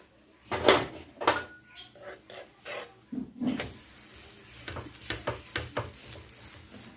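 Coconut sweet poli is cooking on a dosa griddle: a soft sizzle runs under a series of close scraping and pressing clacks from a spatula, with some voice in the background.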